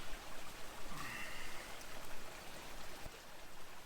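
Soft, steady rush of a Colorado stream flowing over rocks, a continuous gentle babble with no voices.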